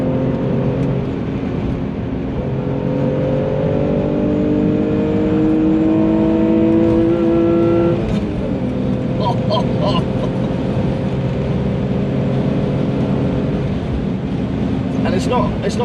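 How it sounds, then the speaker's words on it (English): Steady droning exhaust note of a widebody BMW E46 with rushing wind noise from inside the moving car, constant and fairly loud, the engine pitch rising slightly before settling. "You can hear the tone of the exhaust, you can hear the wind."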